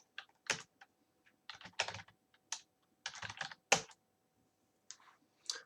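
Keystrokes on a computer keyboard while entering numbers into a Python program, a close, moderately quiet series of irregular clicks in short bursts separated by pauses, with no talking.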